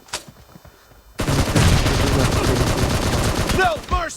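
Sustained automatic gunfire in a shooting video game, with rapid, loud bursts running continuously after a brief lead-in, plus sharp whistling tones near the end and faint talk underneath.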